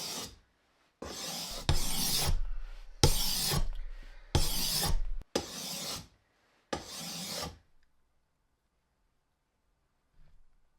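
A fleshing knife is drawn across a sharpening stone in about seven even, rasping strokes, each a close, gritty scrape, followed by near silence.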